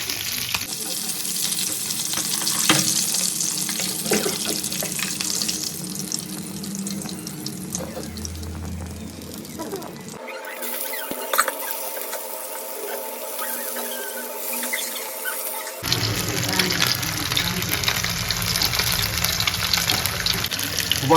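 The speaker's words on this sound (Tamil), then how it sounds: "இந்த மீனை இந்த மாதிரி கட் பண்ணி வறுக்கலாங்க" Paarai fish fries in a pan, a steady sizzle that shifts abruptly in tone twice as the pan is handled, with running-water-like hiss and no speech.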